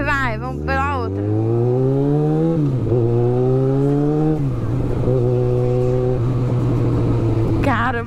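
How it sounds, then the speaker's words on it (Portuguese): Yamaha XJ6 motorcycle engine revving and pulling through several rising gear sweeps as it rides, loud and close, with a voice talking over it at times. "essa moto faz muito barulho"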